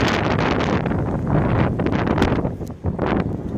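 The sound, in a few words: storm wind blowing near Jeddah airport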